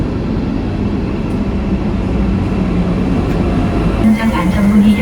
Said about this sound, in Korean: 충주에서 문경으로 가는 열차는 KTX 이음열차입니다.